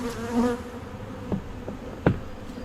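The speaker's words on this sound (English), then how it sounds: "let's shake the bees, just because this colony needs as much help as possible." Honeybees shaken off a hive frame during a mid-October colony inspection fill the air with a steady, close swarm buzz, broken by a couple of brief knocks. No one speaks.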